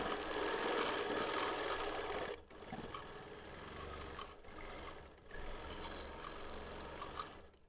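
A sewing machine stitches a quilt top with thick seams, a steady fast mechanical whir broken by a few short pauses, close and without talk.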